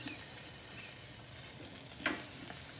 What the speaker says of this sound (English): let's give them a flip here